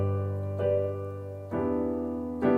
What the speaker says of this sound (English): we can add octaves, which will really pull in, especially if you've got a full-size piano, it'll pull in some of those beautiful bass notes